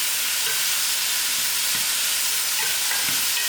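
Brinjal and tomato chutney simmers in a pan, giving a steady soft sizzle and bubbling hiss with a few faint stirring clicks, close and continuous with no talk.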